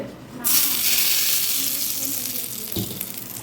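Hot tempering is poured onto coriander chutney and bursts into a loud hiss that fades slowly over a few seconds, with a brief clink near the end.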